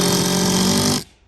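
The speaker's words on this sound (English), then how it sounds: "Gonna finish screwing that piece down" A power screwdriver drives a screw into a piece of mobile home roofing, a loud steady whir lasting about a second before cutting off abruptly into quiet.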